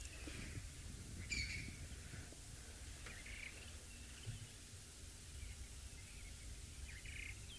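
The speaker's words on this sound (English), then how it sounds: "The birds who are just making noise, look at that. Those are just the woodland creatures, and those are not warning calls." Woodland birds chirp and call casually in short scattered bursts at a wildlife safari site, with no alarm calls, set against steady outdoor ambience and a low rumbling wind noise.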